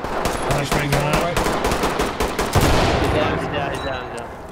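A flashbang grenade goes off during a tactical firefight in Ready or Not, amid rapid bursts of gunfire crackling loud and close, with the dense shooting thinning out toward the end.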